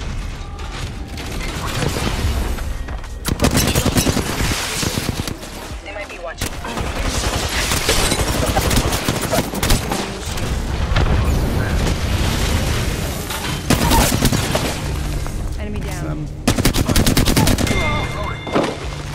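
Heavy Mastiff shotgun blasts and other gunfire from an Apex Legends match, loud and dense, with repeated booming shots and mechanical clatter filling the whole stretch over game effects and occasional voices.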